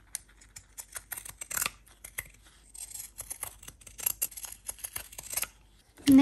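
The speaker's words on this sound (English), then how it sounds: "now I'm gonna cut an even border all around" Scissors snip an even border around a small paper page for a tiny junk journal, giving a string of short, close, crisp cuts in uneven rhythm with brief pauses between them.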